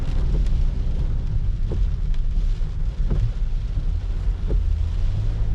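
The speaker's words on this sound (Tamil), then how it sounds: "ஆஹா, செம காற்று, செம மழை." Heavy monsoon wind and rain in a forest near Munnar, a dense continuous roar of rain and gusting wind buffeting the microphone, with a few faint knocks scattered through it.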